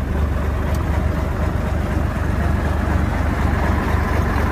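Engine of a 2004 John Deere 250 skid steer with a bucket, about 4,600 hours, running steadily at a sale: a loud, constant low diesel rumble close by, without talking.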